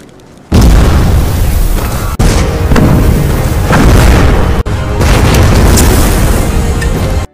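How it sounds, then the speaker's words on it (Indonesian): A bomb planted at a fortress defensive stronghold detonates in an Indian gangster film, bursting in with a loud, sustained explosive roar and rumble that runs for about seven seconds with a couple of brief breaks, and no voices. "Malam harinya Vijay mulai melakukan rencana pembalasan dengan memasang bom di benteng pertahanan Kanca."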